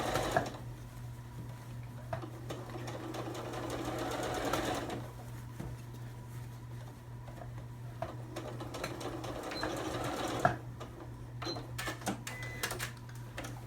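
A sewing machine runs a doubled seam over the same line on a fabric water bottle cover, its fast steady stitching whir continuing through the stretch with a couple of short pauses and clicks, close and alone.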